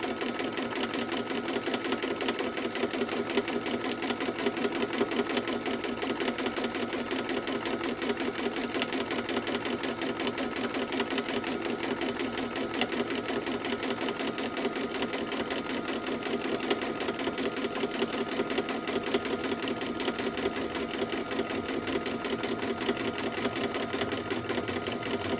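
Sewing machine doing free-motion micro quilting, a fast, even mechanical chatter of stitches running steadily and close for the whole stretch without pause.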